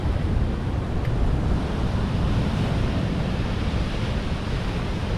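Heavy sea waves surging against a breakwater in rough, high seas, a dense continuous roar of surf and wind rushing close to the microphone throughout, with no voices.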